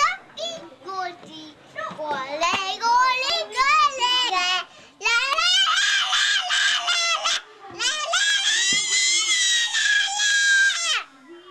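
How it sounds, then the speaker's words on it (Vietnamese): A child screams and cries loudly in long, high, wavering wails with short breaks between them, very close and dominating the scene. "Sao cứ hét vậy?"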